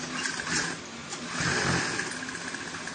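A sewing machine stitching a cuff on a child's senator top, a continuous fast whirring rattle with slight surges in speed, close and steady, no talking.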